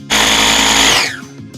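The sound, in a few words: blitzing lemon zest with sugar in a food processor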